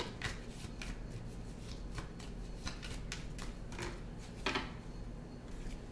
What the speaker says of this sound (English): I'll give it a good shuffle and then I'll split it in half